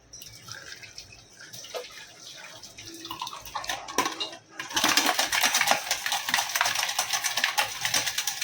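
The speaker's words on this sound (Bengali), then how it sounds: "ডিমে একটু ঠান্ডা জল দিয়ে দিই" Cold water runs over boiled eggs in a kitchen: light clinks and drips first, then a sudden steady rush of pouring water that continues to the end, close by.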